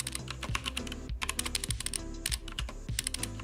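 Rapid, uneven keystrokes clatter on a computer keyboard with a steady tonal background underneath, the taps loud and close, pausing briefly around the middle before resuming in quick bursts.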